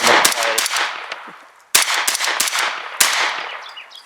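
A preban Colt Model 6450 9mm AR15 carbine fires at an outdoor range, three loud sharp gunshots with ringing decay, spaced over about four seconds.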